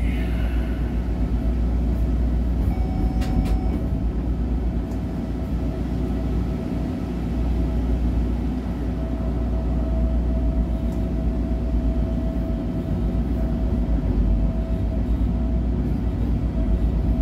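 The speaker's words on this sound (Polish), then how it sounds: "Zawalony pociągami." Trains rumbling through Mszczonów station, a dense, steady low-frequency roar of rolling stock with faint higher squeals, continuous throughout and fairly close.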